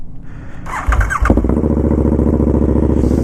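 A KTM Super Duke motorcycle with an Austin Racing aftermarket exhaust catches and starts, then settles into a loud, rapid, popping idle with a sharp exhaust rasp, close by.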